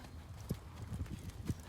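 Hooves of a ridden horse clip-clopping at a trot in an arena, a soft, regular beat of hoof falls, fairly faint, with someone talking quietly in the background.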